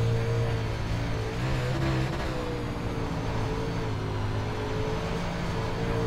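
UMP modified race cars from the iRacing game run hot laps at Eldora, a steady droning engine roar that holds at one loud, even level throughout with no voices.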